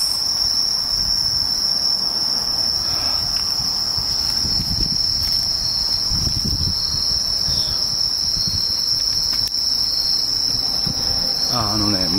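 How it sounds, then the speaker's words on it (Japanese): Crickets and other insects chirp loudly and steadily through the night, a dense shrill drone holding throughout with faint low rumbles beneath. "虫の声がうるさいんだけどね"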